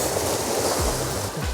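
Ocean waves wash onto a beach in Oahu, a close, steady rush of surf with broadband hiss and low surges as water rolls in.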